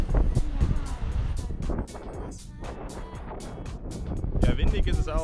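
Gusty wind buffets the camera microphone outdoors with a rough, continuous low rumble and crackle while a person talks over it.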